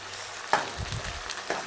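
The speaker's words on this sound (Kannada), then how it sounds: "ನಾನು ಇವಾಗ ಇದಕ್ಕೆ ಟೊಮೊಟೊ ಪ್ಯೂರಿನ ಆ್ಯಡ್ ಮಾಡ್ಕೊಳ್ತಾ ಇದ್ದೀನಿ" Tomato puree frying with onions in a pan for palak paneer, a soft sizzle with a couple of brief stirring clatters, close and alone.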